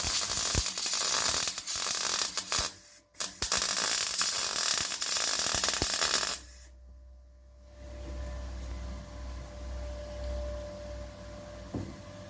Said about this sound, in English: So we're all welded in the back now.